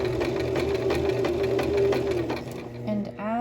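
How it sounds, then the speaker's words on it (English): A domestic sewing machine runs steadily while forward stitching and back stitching a shirt hem, a close, even mechanical whir that slows and stops near the end, followed by brief speech. "I'm gonna forward stitch and then back stitch."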